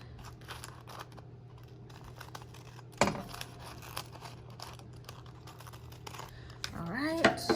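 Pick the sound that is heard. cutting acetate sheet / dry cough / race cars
cutting acetate sheet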